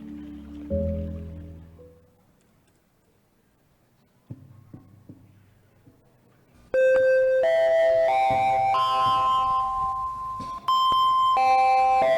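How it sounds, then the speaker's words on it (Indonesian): A school bell rings during a primary school drama performance, a loud sustained electronic chime melody that starts abruptly and carries on to the end after a quiet stretch with scattered knocks. "bel sudah berbunyi"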